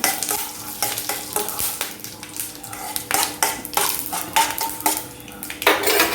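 Four dried red chillies frying in hot oil in a pan, a crackling sizzle punctuated by repeated clinks and scrapes of a metal spoon stirring against the pan, close and busy throughout.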